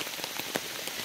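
Steady morning rain patters on surfaces at a backpacking camp by a misty lake, a dense, even hiss with small scattered drop taps, close and continuous with no voices.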